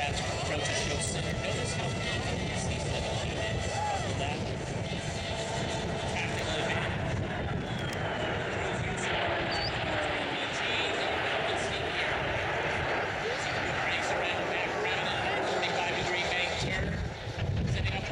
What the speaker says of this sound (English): As the aircraft comes back around show center, it's going to show up for the high-speed banana pass.